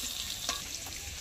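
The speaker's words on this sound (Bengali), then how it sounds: "এবার নাড়িয়ে চাড়িয়ে হালকা করে তেলে ভেজে নেব" Potatoes turned over in hot oil in a pan give off a faint, soft sizzle with light scraping stirs and a small clink near the end.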